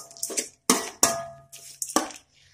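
Amla (Indian gooseberry) mixture being sautéed in a pan for gooseberry rice, with several sharp metallic clinks of a spoon against the pan in an irregular rhythm, close and moderately loud, no talking.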